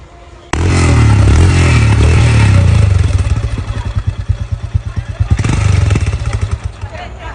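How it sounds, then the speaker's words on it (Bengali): A Royal Enfield Himalayan 650cc motorcycle in fresh condition bursts into life just after a brief quiet start, its loud close engine holding a steady roar before settling into a throbbing, pulsing idle with faint clatter. "বাইকটার ইঞ্জিনের সাউন্ড যদি আমি আপনাদেরকে শুনিয়ে দিই"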